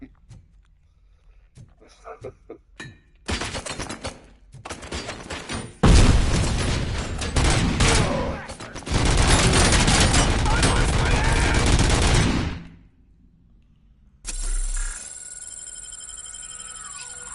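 Gunfire in the video game Robocop: Rogue City: scattered shots build into loud sustained automatic bursts, then cut off, followed by a steady electronic tone.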